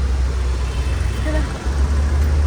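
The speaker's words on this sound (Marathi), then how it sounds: "आता पण ट्रॅफिक आहे बघा आता पण ट्रॅफिक चालूच आहे" Road traffic near Dadar market on a rainy morning forms a continuous low rumble of passing vehicles, moderately loud and steady throughout.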